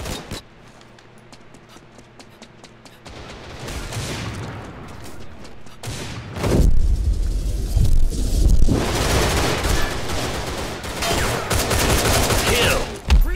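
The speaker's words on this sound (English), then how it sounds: "let's go back to the training assault rifle" Training assault rifle fire in the shooter game Line of Sight crackles in dense rapid bursts with booming impacts, building from sparse shots to a loud sustained barrage.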